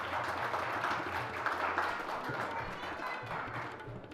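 Audience applause welcoming the presiding guest Faheem Akhtar onto the stage at a mushaira poetry gathering, a steady dense wash of clapping held for several seconds at moderate level over low rumble.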